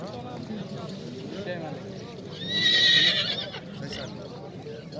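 A horse at a livestock horse market in Nookat lets out a single loud, ringing whinny midway through, surrounded by a busy crowd murmur and people talking in the background.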